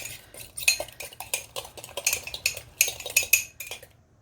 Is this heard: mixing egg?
yes